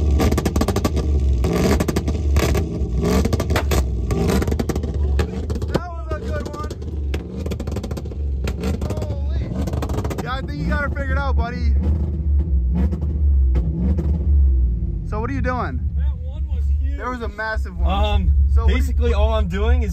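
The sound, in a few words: Chevrolet Silverado engine revving on MSD two-step limiter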